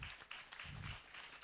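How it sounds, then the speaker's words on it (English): Audience at an education event clapping for an honored guest, a faint, distant patter of applause that continues evenly through the moment. "we're going to give him 2 rounds of applause"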